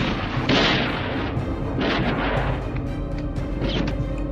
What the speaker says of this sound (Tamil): சரமாரியாக சுடுங்கள்.